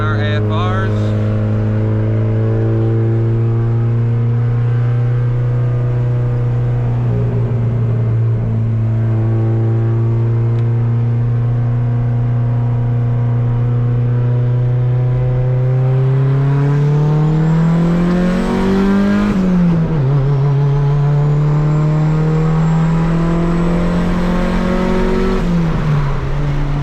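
A built, turbocharged Honda Civic D16 engine revs hard through a dyno pull, its loud droning tone rising steadily toward high RPM, briefly dipping and then climbing again, with no speech over it.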